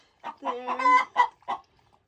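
Backyard chickens clucking close by, a short run of five or six soft, separate clucks and a brief peep, then quiet.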